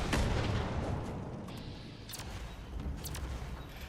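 Turrets firing at enemies in the video game Fallout 76, a rolling barrage of booming gunfire bursts that starts heavy and keeps up with sharp cracks over a dense rumbling background, loud and continuous.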